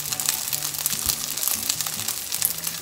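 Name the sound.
rice balls frying in a large frying pan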